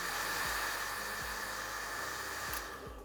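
Close, loud and steady, a hair dryer blows on fine hair wound around a round brush, with light brush bumps, before the airflow tapers off near the end.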